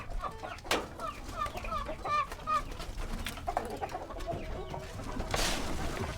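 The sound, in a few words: hens clucking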